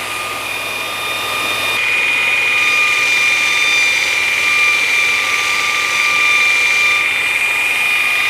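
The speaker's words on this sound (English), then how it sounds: "And now we're ready to grind." A Vevor 2x82 belt grinder runs at speed, a loud, steady high-pitched whine and rushing hum that holds constant from start to finish, close by with no voices.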